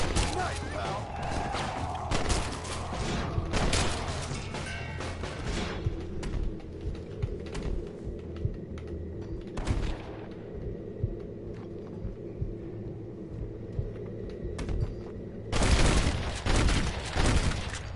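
Gunfire in the zombie-themed Western game Red Dead Redemption: Undead Nightmare, with loud bursts of shots packed into the first few seconds and again near the end, a low rumbling ambience between, and a player talking over it.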